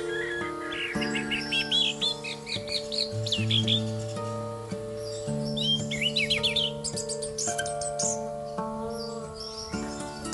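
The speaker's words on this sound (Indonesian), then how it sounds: "mendengarkan suara anis merah yang sudah rajin bunyi dan teler" A captive orange-headed thrush sings, bright varied warbling phrases and chirps that come in bursts over a steady background hum.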